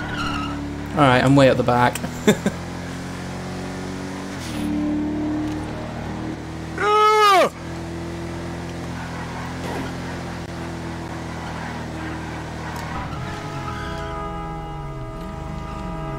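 Cars racing against police in GTA V: engines rev and whine, with sharp tire squeals, one near the start and another mid-way. Someone talks over the motor noise.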